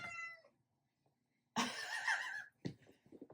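A cat meows loudly and close by in a home kitchen, one long drawn-out yowl followed by a shorter call, with a faint voice speaking briefly before it.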